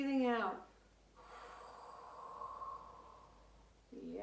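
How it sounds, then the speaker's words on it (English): A long, steady breath out, soft and airy, is held for about three seconds in a guided meditation, with a voice speaking briefly just before and after it. "and breathing out."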